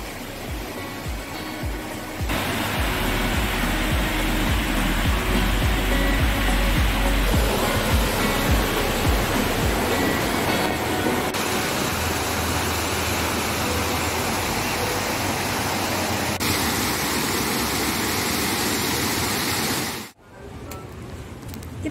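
Artificial waterfall at a water park pouring steadily, a loud, dense roar of falling water that holds constant for about twenty seconds before cutting off briefly near the end.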